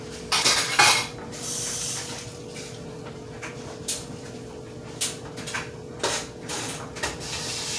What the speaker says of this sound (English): I can get my mess cleaned up